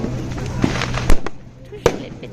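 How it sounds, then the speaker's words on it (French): Firecrackers bang at an August 1st bonfire night, two sharp loud cracks standing out from a busy, noisy outdoor background with people around. "Toujours les pétards."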